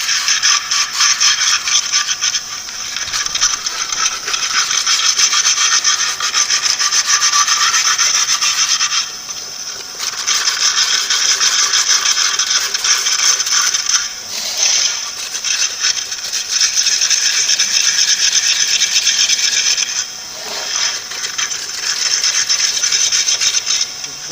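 Steady rasping scrape of a tool working the stator slots of a three-phase electric motor being rewound, loud and close, in long continuous strokes broken by brief pauses near 9, 14 and 20 seconds, with no talking.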